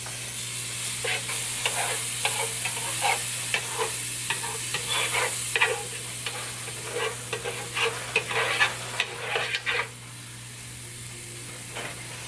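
Butter sizzles steadily in a hot pan before bread is fried, with a constant crackling hiss and irregular louder pops and spatters over a low hum, close and fairly loud throughout.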